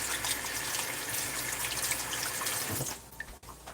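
Water poured off cubed potatoes while making potato soup, a steady close splashing gush like a running tap, thinning out near the end.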